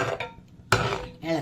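A spoon stirs mango kalan curry in a pot, giving a few soft scraping and clinking sounds, with one sharper knock against the side partway through, close and fairly quiet.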